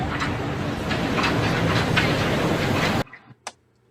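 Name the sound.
EPCOT monorail passing at Walt Disney World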